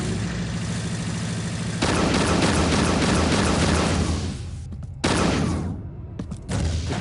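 Combat assault rifle fired in the Unreal 2 video game, heard as dense rapid automatic bursts, loud and close, separated by short pauses, no talking.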